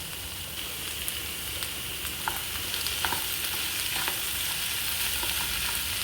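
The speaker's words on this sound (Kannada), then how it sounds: "ಈಗ ಟೊಮೆಟೊ ಚೆನ್ನಾಗಿ ಫ್ರೈ ಆಗ್ತಾ ಬಂದಿದೆ" Tomato frying in oil with onion, coconut and a little salt for a mutton curry gives off a continuous close sizzle and crackle. Occasional light spatters and stirring taps come through, and no one speaks.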